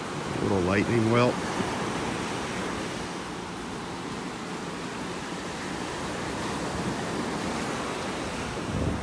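Ocean surf breaking on a calm beach in North Naples, Florida, a steady near wash of waves that runs through the whole stretch, with a few brief bird calls early on.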